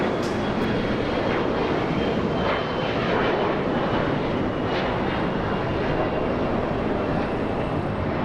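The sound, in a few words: Embraer E175 jet climbing after takeoff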